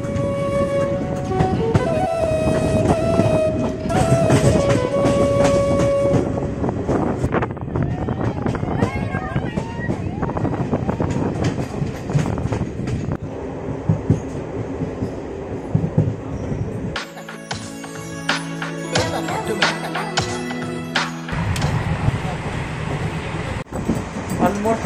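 An express passenger train rolls along the rails after leaving Kurduwadi Junction toward Barshi in the evening, steady rumbling and clattering from inside the coach, with a sharper metallic rattling passage near the end.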